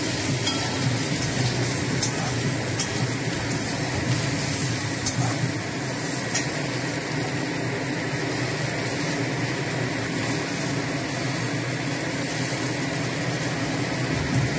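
Bata fish fry in hot oil in a pan with salt, giving a loud, close, continuous sizzle that holds steady throughout.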